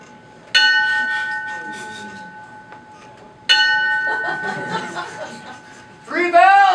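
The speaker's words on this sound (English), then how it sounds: "Three bells!" A bell strikes with a clear, ringing tone, once and then again a few seconds later. Each strike decays slowly. A voice speaks near the end.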